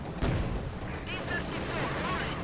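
Gunfire from a Company of Heroes battle, the Volkssturm attack, with a sharp burst near the start and then continuous broadband battle din with scattered shots behind it.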